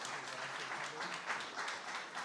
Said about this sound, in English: If everyone wants to give a little round of applause for all these lovely people.